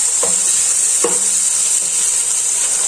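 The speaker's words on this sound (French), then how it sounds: "à feu vif, on fait revenir les oignons" Onions frying over high heat: a steady, loud hiss of sizzling oil throughout, with a few soft utensil scrapes against the pan, no voices.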